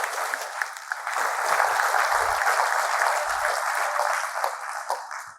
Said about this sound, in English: we got time for some more applause for Jay